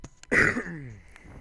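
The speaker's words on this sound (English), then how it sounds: "Don't want to cough in the microphone" A single short, close cough, more like a throat clear, bursts out and trails off, with a faint click just after.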